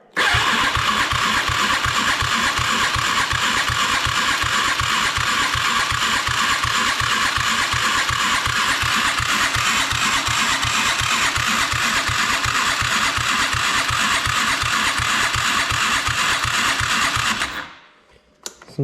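Polaris Sportsman 500 ATV cranking on a jumper pack without catching, a rapid, even, loud starter churn running steadily for about seventeen seconds before cutting off.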